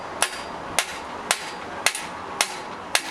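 A hammer strikes a tool wedged through a stuck bicycle seat post, ringing out six evenly spaced, sharp metallic blows, close and loud with no talking.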